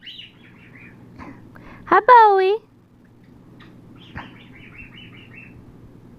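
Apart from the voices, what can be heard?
pet bird chattering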